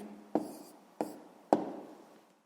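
A pen writing down a math answer on paper: three distinct taps or strokes about half a second apart, each fading quickly, quiet and close with no voices.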